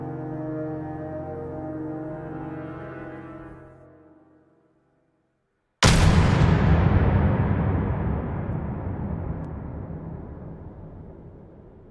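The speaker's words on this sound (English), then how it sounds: "That's a hand cannon sound." A sharp, loud burst from a hand cannon in the video game Destiny 2 cuts in after a fading musical chord and a moment of silence, then a long ringing decay trails off over several seconds.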